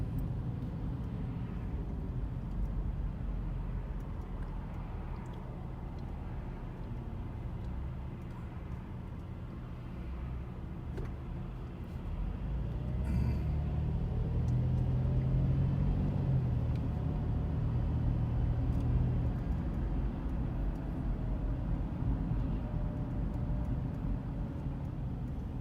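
Steady road rumble of a car driving in light traffic near Vancouver, with mountains in view, a continuous low drone that swells a little louder partway through and carries on without any talk.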